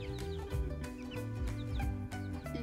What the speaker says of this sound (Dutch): Even kijken hoe het met de kuikentjes gaat.